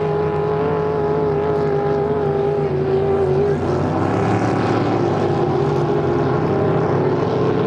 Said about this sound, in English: that boat running really well as it comes flying down the front stretch